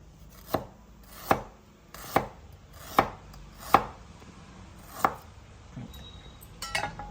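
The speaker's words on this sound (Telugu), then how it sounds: "మనం తీసుకున్న అల్లం ముక్కు ఉంది కదా దాన్ని కూడా చిన్నగా ఇలా చాప్ చేసుకోవాలి" A knife chops ginger on a cutting board, giving seven or eight crisp, evenly spaced thuds about a second apart. The chops are close and clear against a quiet background.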